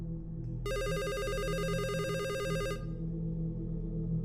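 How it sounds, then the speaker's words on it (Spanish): A telephone bell rings in one continuous burst of about two seconds over a constant low hum, then stops. "el teléfono volvió a sonar"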